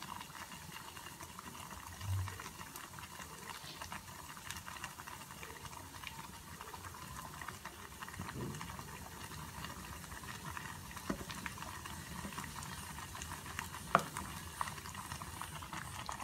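Mustard seeds and hing fry in a pan with a faint, steady crackle and soft popping that runs throughout, with no talking.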